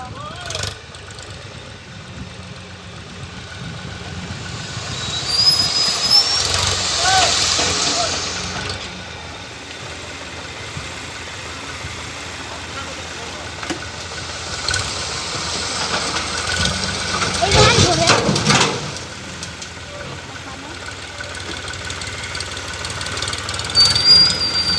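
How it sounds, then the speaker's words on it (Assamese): A tractor engine rumbles while turning on a road under construction, with a rough, knocking drone that swells in two louder stretches and hisses at times. "ইভাগে ট্ৰেক্টৰখন ঘূৰলাক মানে"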